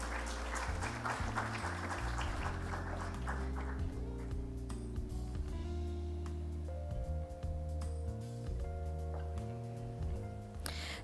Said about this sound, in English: Can we put our hands together and give them a round of applause as we take a group photograph?